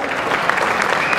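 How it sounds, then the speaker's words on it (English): Audience applause fills a bodybuilding championship hall during the figure short class, a dense, steady wash of many hands clapping close by for just over a second, with no break. "give them a round of applause"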